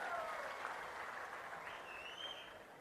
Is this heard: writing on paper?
no